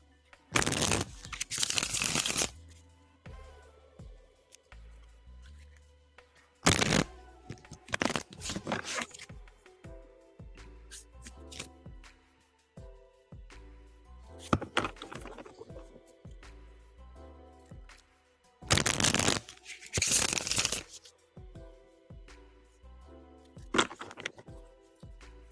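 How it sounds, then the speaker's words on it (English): Tarot cards shuffled by hand during a reading, loud bursts of riffling and snapping in several separate rounds with quieter handling between them, close and with no voices. "So we're shuffling for you now."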